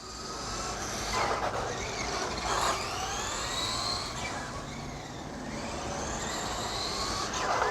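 A Traxxas Slash 2WD radio-controlled car runs at quarter power outdoors, its electric motor whining and rising in pitch as it passes by, steady and moderately loud over a rumbling background with no talking.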